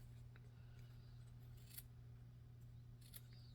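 Scissors trimming fabric for a 1950s housewife or garden party dress: a couple of faint, quick snips close by over a steady low hum.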